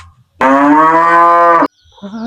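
A cow lets out one long, loud, steady moo close by, lasting over a second, with quiet moments before and after.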